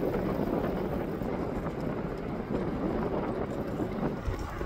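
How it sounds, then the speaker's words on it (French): Strong outdoor wind buffets a microphone in a steady, dense rumbling roar that holds for the whole stretch with no pause and no voice. "J'espère que vous allez bien m'entendre parce qu'il y a beaucoup de vent quand même aujourd'hui"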